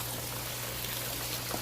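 Water trickles and splashes steadily down a backyard pond waterfall, a continuous close wash of sound with no talk.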